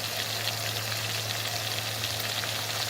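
Spice pastes of onion, garlic, ginger and cumin frying with salt for a spicy village-style desi chicken curry, a steady close sizzle with a low hum underneath, continuous and unbroken.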